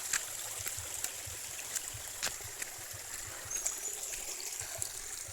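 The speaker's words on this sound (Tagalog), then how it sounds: "Ito sapa niya din." A small forest stream trickles and babbles steadily nearby, with faint scattered splashes and clicks over a constant soft water wash; no talking.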